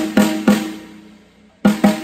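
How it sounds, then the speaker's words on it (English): A snare drum with its snares set too loose is struck four times in two pairs, each hit a loud, near crack with a long, buzzy, rattling tail that decays slowly between the pairs. "so that they're too loose, it would sound like this"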